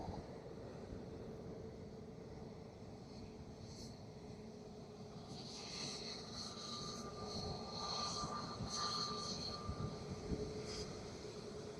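An airliner makes a hard landing at Dublin Airport, a distant, steady jet engine roar that swells and grows brighter partway through, with no talk over it.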